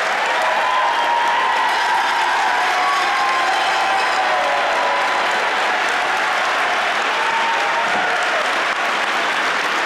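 An audience at a school district recognition night applauds the parents and grandparents, a dense, loud, continuous wash of clapping that holds steady throughout.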